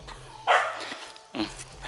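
A dog barks twice, sharp and fairly close, in a forest, the two loud barks about a second apart against quiet outdoor background.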